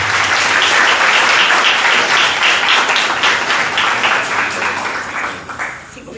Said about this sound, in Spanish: Un fuerte voto de aplauso para ella, por favor